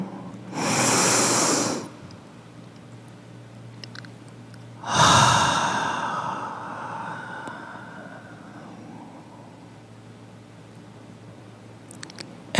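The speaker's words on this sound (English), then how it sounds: "And another inhale." A person breathes deeply during a guided meditation: one long inhale, a pause, then a second strong inhale easing into a slow, fading exhale. The breaths are close and clear against a quiet background, with no talking.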